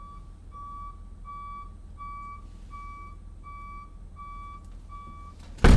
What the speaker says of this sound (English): What the hell is coming down my driveway? Is that an oil truck?